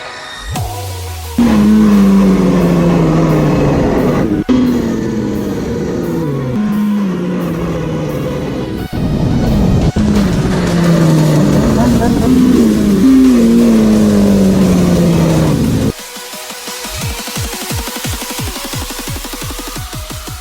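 A 2016 Kawasaki Ninja 300 motorcycle engine revs up repeatedly, loud and close, with rising and falling pitch between throttle blips before settling into a choppy idle.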